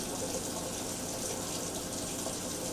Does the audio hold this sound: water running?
yes